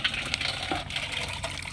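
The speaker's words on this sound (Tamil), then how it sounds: "எடுத்து ஊற்றிட்டார் தண்ணியை" Water poured out in a village kitchen during fish washing, a steady broadband splashing gush lasting under two seconds with no voices.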